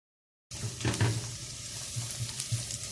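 Chopped medium onion hits a pot of heated corn oil and butter and fries steadily, giving a soft, constant sizzle with a few light stirring knocks near the start. No talking.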